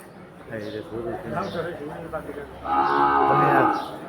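Cattle at a rural Bengali cattle market, people talking nearby followed by a loud, drawn-out moo close to the listener.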